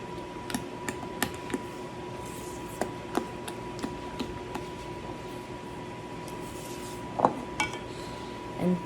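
Spoon clinking and scraping against a bowl while baking powder and salt are stirred into lemon rosemary ricotta cookie dough, sharp intermittent ticks over a quiet background.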